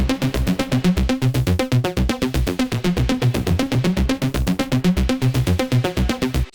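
An analog-style synth arpeggio played in Xfer Serum with plate reverb, running as a fast, steady stream of bright plucked notes over a pulsing low bass pattern, loud and continuous without pauses.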